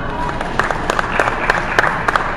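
Audience applause at a stand-up comedy show, a sustained patter of many hands clapping at moderate loudness with scattered louder claps.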